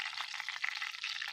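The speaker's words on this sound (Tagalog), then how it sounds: "Prito muna din." Tilapia frying in hot oil, a steady crackling sizzle with fine popping spatter throughout, moderately close and without voices.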